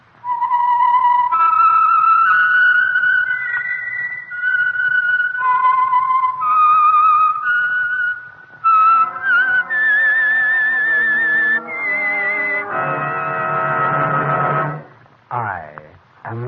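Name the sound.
whistle identifying the Signal Oil radio program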